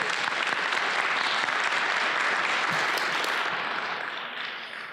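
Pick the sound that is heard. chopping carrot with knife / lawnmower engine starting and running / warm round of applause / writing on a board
warm round of applause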